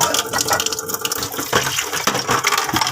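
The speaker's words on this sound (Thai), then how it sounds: "ล้างจนกว่าความลื่นมันจะหมดไปนะคะ" Tap water gushes steadily over tube-feeding equipment being rinsed clean after a patient's feeding, a continuous close splashing and pouring with shifting flow and no voices.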